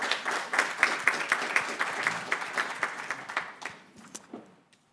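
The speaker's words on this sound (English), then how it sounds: "Round of applause for that answer" A round of applause at a Native American Heritage Month kickoff event, dense clapping from a room of people that holds steady for several seconds, then thins out and fades to scattered claps.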